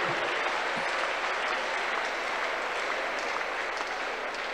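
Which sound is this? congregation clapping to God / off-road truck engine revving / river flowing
congregation clapping to God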